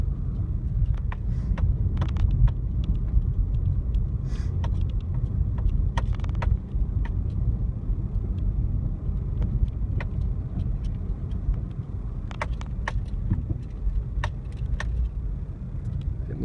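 A car driving down a winding hill road near Nistrovo, Macedonia, its low engine and road rumble steady throughout, with faint rattles and clicks from inside the cabin and no talk.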